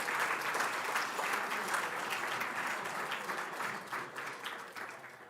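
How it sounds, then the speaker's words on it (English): An audience claps at the closing ceremony of the CactusCon 10 security conference, a dense, steady round of applause from a crowd indoors that holds strong and slowly tapers toward the end. "Round of applause again."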